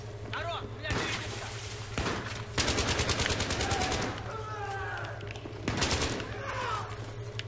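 Battlefield 3 gunfire sounds off in several sharp bursts and rapid automatic volleys, some near and loud, separated by brief pauses, with game sounds and a voice talking between the shots.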